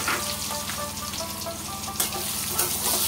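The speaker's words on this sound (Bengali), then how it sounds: "এখন মাছগুলোকে তুলে নিয়ে এই তেলের ভিতরেই আমি দিয়ে দেব কেটে রাখা আলুগুলো আমি ভেজে নেব।" Potatoes fry in oil left over from frying fish, giving a dense, close, unbroken sizzle that stays loud and even for the whole stretch, with no talking.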